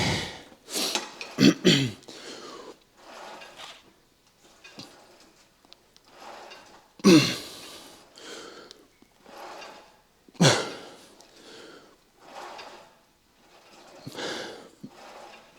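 Heavy, strained breathing with forceful exhales and grunts comes in repeated bursts during a chest workout, separated by quieter pauses and occasional clinks of equipment.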